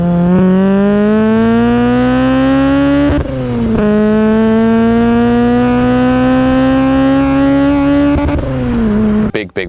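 A Honda EP3 Civic with an aftermarket exhaust revs in a long sustained drone, dipping briefly and climbing again, loud and close, with no talking over it.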